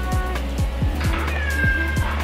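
A cat meows loudly and insistently, several drawn-out cries in quick succession, close by indoors during an at-home gel nail session.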